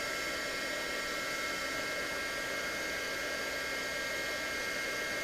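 Heat gun blowing hot air to shrink heat-shrink tubing during a 250-size quadcopter build: a steady, faint broadband hiss of airflow held evenly for about five seconds, with no talking.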